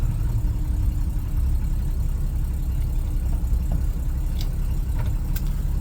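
A 1976 Toyota FJ55 Land Cruiser, all original with 66k miles, idles steadily with a low, even engine rumble close by, no one speaking.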